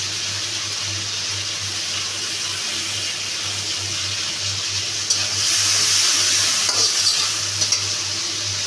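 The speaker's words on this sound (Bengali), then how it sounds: "দিয়ে এখন আমি একটু ভেজে নেব।" Vegetables stir-fry in a pan for Chinese-style noodles, a continuous close sizzle with a low steady hum beneath, growing briefly louder with stirring and scraping toward the end.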